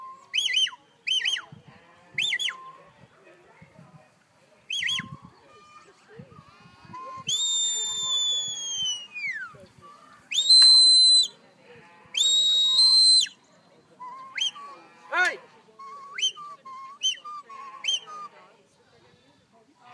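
A shepherd working a Border Collie with sheep gives sharp, high whistle commands, several short blasts and longer warbling calls in a row, loud and close, with sheep bleating and someone speaking in between at an outdoor working dog demo.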